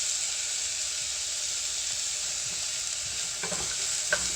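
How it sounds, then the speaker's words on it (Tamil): Chopped onions with a pinch of salt sauté in a pan over medium flame, giving a constant hissing sizzle, with a few clicks of a spatula against the pan near the end. "இப்போ இதையும் சேர்த்து நல்லா வதக்கிக்கலாம்."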